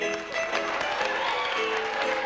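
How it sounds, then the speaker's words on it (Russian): Audience applause fills a hall, a steady wash of many hands clapping, fairly loud and even throughout. "Буйные аплодисменты, прошу."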